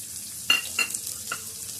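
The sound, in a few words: frying mustard seeds, cumin, chana dal, spices and chillies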